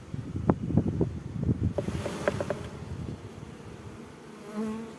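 Dense, steady buzzing of many bees close by, with a low droning hum and scattered brief higher tones over it.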